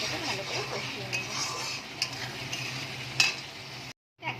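Spice paste for a pomfret curry sizzles in a pan while a spoon stirs and scrapes it, with small metallic clinks over a steady fry that drops out for a moment near the end.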